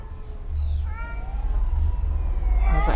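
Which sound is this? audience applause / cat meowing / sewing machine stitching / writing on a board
cat meowing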